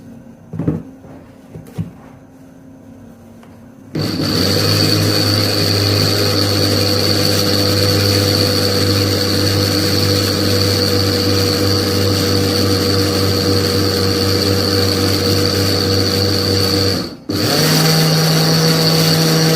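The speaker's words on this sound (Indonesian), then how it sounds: "Oke, siap kita blender." A blender starts up with a loud, steady whirring drone after a few clicks and bumps, running continuously with a brief dip near the end.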